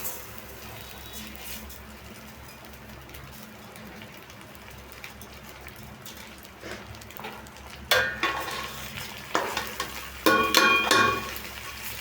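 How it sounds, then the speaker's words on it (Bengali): Rice tipped into a pot of hot oil for polao, with sizzling and frying building in the second half under a steady low hiss, joined by scraping stir strokes. "এখন আমরা চাল দিয়ে দেব।"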